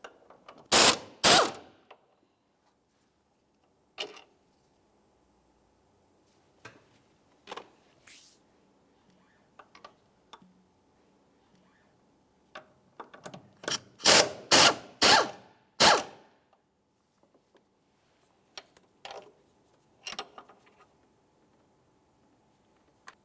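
A hand ratchet removes two 16mm bolts from the engine mount bracket of a 2011-2018 Volkswagen Jetta, heard as loud, close bursts of rapid clicking separated by quiet pauses and faint tool handling.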